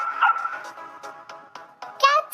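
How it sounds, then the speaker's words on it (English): A dog gives a few short, close barks and yips in a quick irregular series, ending with a sharper, louder bark, with no other sound around it. "Dogs bark."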